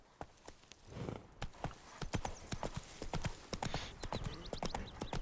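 Roach, a horse in The Witcher 3, gallops with quick, sharp, close hoofbeats in a fast irregular rhythm, a faint whinny briefly rising over the steady thudding, without any talk.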